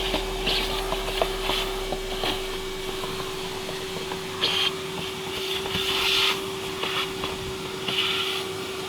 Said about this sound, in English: grab a vacuum and just vacuum out the airbox